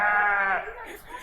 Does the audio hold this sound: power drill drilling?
no